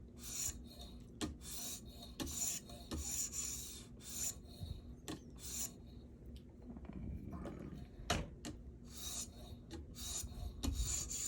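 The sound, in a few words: sharpening a cheap Ozark Trail knife on a sharpening stone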